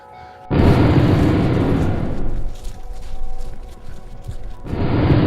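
Mountaintop blast for coal mining: a sudden loud boom erupts, followed by a long rolling rumble and debris roar that fades, then another heavy blast surges near the end.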